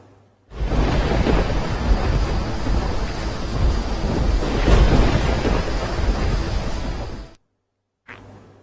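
Heavy rain with thunder in Junagadh, Gujarat: a loud, dense roar of downpour and rolling thunder that starts abruptly, holds for several seconds, then cuts off, followed by a brief burst.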